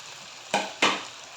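Cut boiled potato pieces fry in a wok with softened tomatoes under a faint sizzle, broken by two quick, close scraping stirs of a spatula about a quarter second apart.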